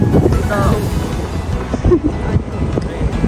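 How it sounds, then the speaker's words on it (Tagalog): Wind buffets the microphone in a steady low rumble, with quiet voices faintly underneath. "Sarap ng hangin."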